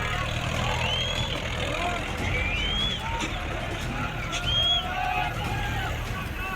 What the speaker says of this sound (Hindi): ट्रैक्टर के ड्राइवर को इसकी फिक्र नहीं, वो तो स्टंट करता जा रहा है और वो भी रात के 11 बजे